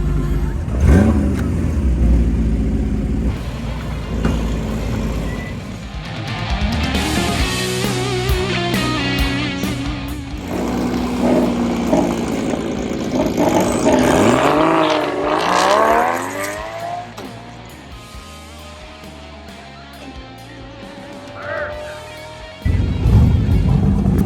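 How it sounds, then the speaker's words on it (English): A car in a drag race pass in the game Rust Valley, its engine revving hard and climbing through gears in repeated rising sweeps, loud and close, before easing off near the end. "okay, that was a real drag race pass."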